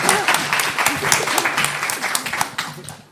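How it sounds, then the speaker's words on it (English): An audience at a women's film panel in Ireland applauds in a close, lively burst of clapping with a few voices mixed in, which fades toward the end. "Round of applause for Louise."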